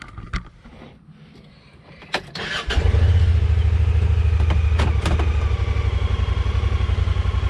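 A Polaris Pioneer UTV engine fires up after a few clicks and knocks, then settles into a loud, steady, close running drone as the machine gets ready to move off.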